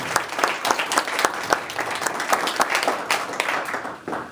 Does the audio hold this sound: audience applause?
yes